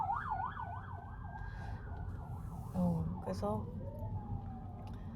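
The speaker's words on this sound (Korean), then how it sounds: "그래서 그때부터는 사이렌 소리가 나네?" A wailing emergency siren sweeps up and down, then shifts to a fast yelp before settling into a steady tone, heard on a snowy mountain, with a person speaking briefly over it.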